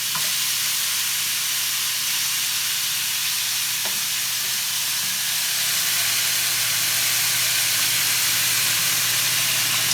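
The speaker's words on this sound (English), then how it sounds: "our tender cuts we cook hot and fast. And that's all we're going to do with this, is get a good sear on it" Tender venison cuts sear hot and fast in a pan for a stir fry, a steady loud sizzle and hiss continuing throughout with faint stirring, no talk.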